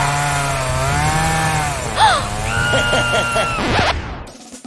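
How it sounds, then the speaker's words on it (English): A chainsaw engine drones steadily at close range, its pitch wavering and briefly rising, with other short tonal sounds on top before it cuts off abruptly near the end. "Put the chainsaw down."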